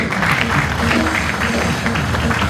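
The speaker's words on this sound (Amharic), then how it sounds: "እልልታና ጭብጨባ ለጌታ አስገቡ እስቲ" A church congregation breaks into dense, continuous clapping mixed with crowd voices and ululation, loud and close throughout.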